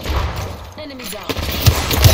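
Short bursts of gunfire from the Apex Legends shooter game ring out close by, punctuated by thumps, while a voice talks over the shots.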